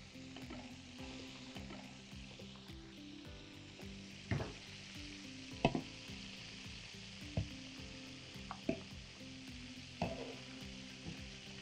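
Chicken wings fry in hot oil with a steady soft sizzle, broken by occasional louder crackles and spatters as pieces shift, close and fairly quiet, with no talking.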